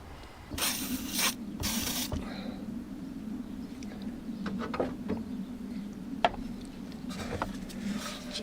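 Short bursts of aerosol cleaner are sprayed onto electrical plugs on a Land Rover Discovery 2, two quick hisses near the start followed by quiet handling and faint clicks.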